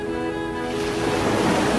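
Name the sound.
ocean waves roaring at Cox's Bazar beach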